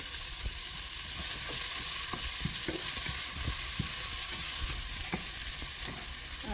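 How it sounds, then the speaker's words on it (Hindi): Chopped onion frying in a pan, a constant close hiss of sizzling oil with scattered taps and scrapes of a spoon stirring, steady and fairly loud throughout, no speech. "जब तक हमारा अनियन इधर थोड़ा फ्राई होता है"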